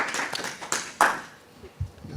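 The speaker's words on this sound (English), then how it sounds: "Final clap" An audience at a climate fiction reading event gives a final round of clapping, a few scattered sharp claps that start close and fade to quiet.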